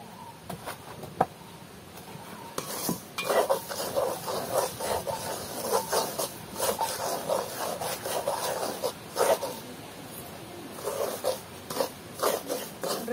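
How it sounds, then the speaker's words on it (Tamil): Semolina (rava) is dry-roasted in a pan for upma in a village kitchen, giving a soft, irregular hissing and scraping as the grains are stirred, with occasional clicks of a utensil against the pan. "ரவையை நாங்கள் இப்ப கொஞ்ச நேரமா வறுக்கிறோம்."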